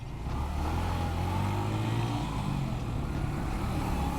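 Dense city road traffic heard from a motorbike on a ride out of Islamabad, a continuous engine and road rumble with vehicles revving and passing close by, no voices.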